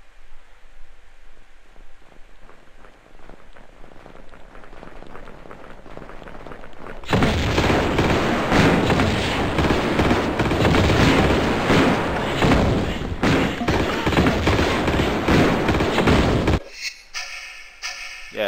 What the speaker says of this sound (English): Let me try the grenade launcher.